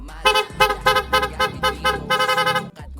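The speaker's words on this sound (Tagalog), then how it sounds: "Bali kapag hindi nakalubog, stock horn lang yung tutunog." A stock horn on a Honda ADV 160 motorcycle sounds in a string of short, loud, close honks, some clipped and some held slightly longer, with nothing else heard.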